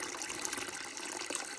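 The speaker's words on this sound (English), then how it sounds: "I'm going to add in some bleach," Liquid bleach pours into a vessel of very hot water, a steady close splashing gush that fills the short stretch evenly, during a DIY cleaning of a moldy LG washer door boot.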